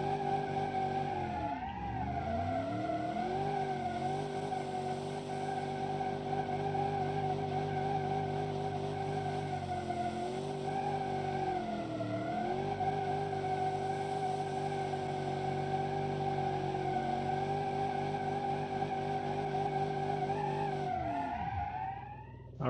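A video-game car spins a celebratory donut with its exhaust still on, engine droning loud and steady for over twenty seconds while tires squeal continuously, revs dipping briefly a few times.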